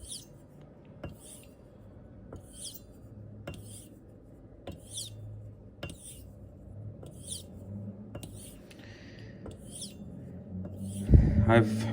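A razor edge from a LaLune hone passes back and forth across a slate or Arkansas sharpening stone, producing faint, regular swishing strokes about every second, ending in a louder clatter.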